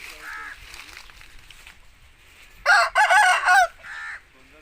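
An Aseel rooster crows loudly nearby, a long, strained cock-a-doodle-doo, with softer clucking and calls before and after.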